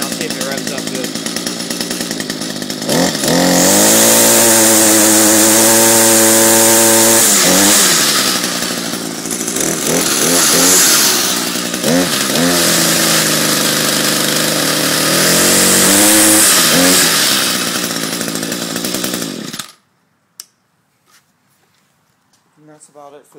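An Echo GT2000r two-stroke weed eater engine revs hard and loud, rising and falling in several throttle bursts over a sustained run, then shuts off abruptly into near silence.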